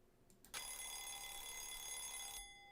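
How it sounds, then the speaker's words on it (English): An alarm clock in the Danganronpa Lapse video game gives a continuous bright electronic ring. It starts abruptly after a brief quiet lead-in, holds steady for about two seconds, then cuts off. "Oh, it's an alarm clock."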